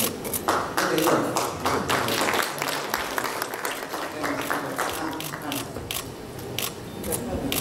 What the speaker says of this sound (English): Now you know the trick, you know you have to keep applauding.